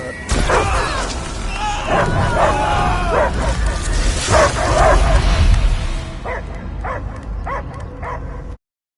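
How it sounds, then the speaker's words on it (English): Loud dog barking and yipping in the video game Guardians of the Galaxy, a run of sharp repeated barks and whimpers close up, mixed with game effects and music, with a few spaced barks trailing off at the end. "I hear only barking."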